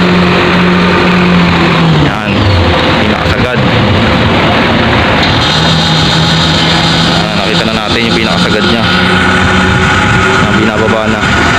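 An Isuzu NQR dump truck's diesel engine is revved hard toward full throttle, a loud, steady drone that rises and holds close by, with people talking over it throughout.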